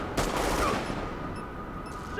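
Gunfire in The Division, a third-person shooter video game: a loud shot or short burst near the start, then a sustained rumbling tail and a busy background of battle noise.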